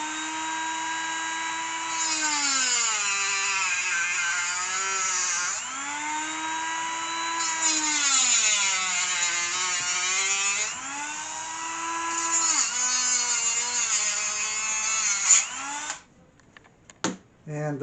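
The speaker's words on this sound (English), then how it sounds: "I get my handy dandy moto tool." Handheld rotary moto tool cutting corner braces for a model building, a high whining buzz whose pitch repeatedly sags and recovers as it bites into the material, loud and close, with brief pauses.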